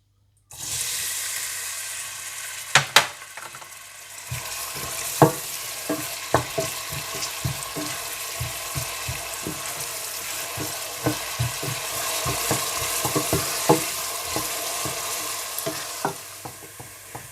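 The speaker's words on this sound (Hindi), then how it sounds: "सबसे पहले ऑयल गर्म करके इसमें प्याज डालकर हल्का सुनहरी होने तक फ्राई करें" Onions fry in hot oil with a steady sizzle, broken by frequent stirring scrapes and clacks of a spoon against the pan, close and continuous throughout.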